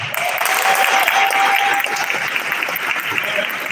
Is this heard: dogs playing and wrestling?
no